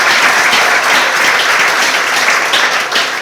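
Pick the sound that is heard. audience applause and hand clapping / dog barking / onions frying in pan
audience applause and hand clapping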